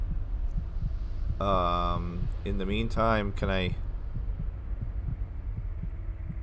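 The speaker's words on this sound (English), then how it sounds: "get this heartbeat thing stopping? It's kind of annoying." A steady, low, throbbing heartbeat pulses in the Skyrim mod Enderal. It sounds as even rhythmic thumps under a man's speech and continues alone after he stops.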